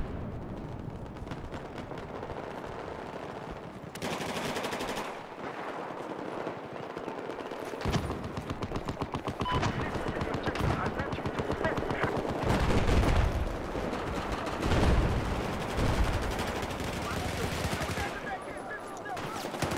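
Battlefield 4 combat with DP-12 shotgun blasts amid heavy surrounding gunfire and explosions, loud irregular bursts layered over constant battle noise.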